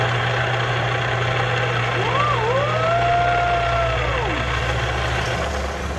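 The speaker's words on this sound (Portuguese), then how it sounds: "Vou ligar o motor aqui, o motorzinho de máquina." A small machine motor runs a belt on a homemade wood saw built from bicycle parts, a steady close hum with a low drone and a rising then falling whine partway through.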